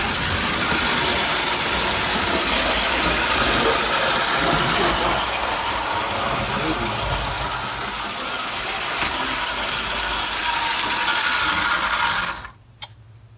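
An American Flyer toy steam locomotive's motor runs steadily and loudly, a dense mechanical whir with gear chatter that carries on without a break until it suddenly cuts off near the end.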